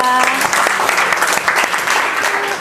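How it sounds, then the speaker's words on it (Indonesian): A classroom group breaks into dense applause for group 2 of their class, loud and steady from start to finish, with brief voices mixed under the clapping. "Kita beri tepuk tangan sekali lagi untuk kelompok 2."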